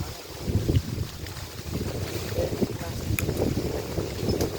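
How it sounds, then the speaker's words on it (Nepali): Wind blowing through a forest, a continuous low rush buffeting the microphone in uneven gusts, close and fairly loud. "हावा यस्तो चलिरहेको छ नि"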